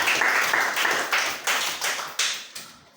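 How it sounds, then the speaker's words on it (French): A church congregation claps for a brother after his sermon, a short patter of hand claps coming in uneven bursts and tapering off within a few seconds. "Acclamez quand même fort pour le frère."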